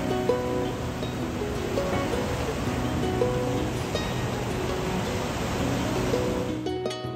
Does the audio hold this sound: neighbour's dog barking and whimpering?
no